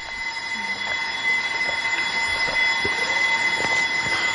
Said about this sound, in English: The alarm plays continuously until all the housemates are up.